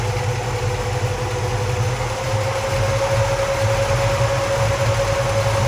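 A 1973 Ford Mustang Mach 1 engine idles steadily at close range, a continuous low rumble with a constant whine from the alternator, with no one speaking.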